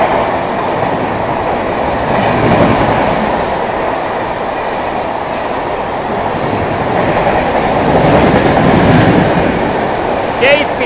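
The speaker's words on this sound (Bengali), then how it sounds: "এই যে ট্রেনটা দেখতে পাচ্ছ, এটা তোমার যাচ্ছে হচ্ছে মেদিনীপুর" A local train bound for Medinipur speeds out of Panskura station, a loud, steady roar of rolling wagons and rail rumble that continues without pause throughout, with a faint squeal near the end.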